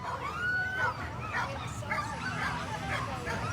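Sled dogs bark and yip at the start of an open class sled dog race on 4th Avenue, a steady excited chorus under crowd noise and a voice over a loudspeaker.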